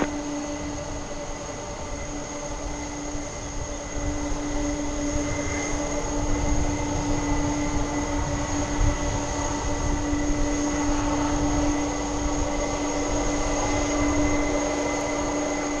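Jet aircraft at DFW Airport, a loud steady engine roar with sustained whining tones, constant and close for the whole stretch, no talk over it.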